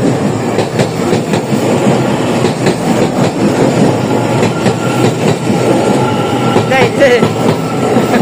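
A train rolls through a station in Taiwan, loud and close, with a continuous rumble and rhythmic wheel clatter throughout; a few brief words are spoken over it.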